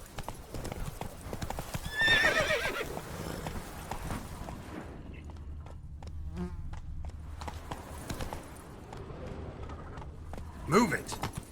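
A horse in The Witcher 3 clip-clops along at a steady rhythmic pace, with a brief whinny near the start and game voices talking over it.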